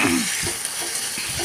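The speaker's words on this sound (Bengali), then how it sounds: "আদা ভাজা হয়ে গেছে, কিছুটা ভাজা হয়ে গেছে আদা" Ginger fries in hot oil with a soft, steady sizzle and a few faint stirring scrapes, close and without voices.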